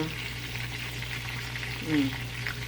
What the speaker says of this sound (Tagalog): Ito iti sidaan nga pangrabi pinirito nga sida.